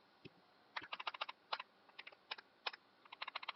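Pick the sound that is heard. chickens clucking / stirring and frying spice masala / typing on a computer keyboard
typing on a computer keyboard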